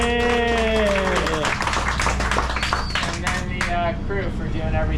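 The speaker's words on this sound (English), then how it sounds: "Big round of applause to Hope and Pearl" Applause and cheering for the crew of the Royal Polaris sportfishing boat rise under loud, close talk, with a crowd voice calling out over steady background noise.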